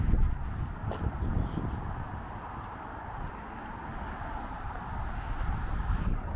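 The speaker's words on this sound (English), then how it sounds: "Sorry about the wind. It's crazy windy day." Strong gusts buffet the microphone outdoors on a very windy day near old industrial train tracks, a loud low rumble that rises and falls throughout with no speech.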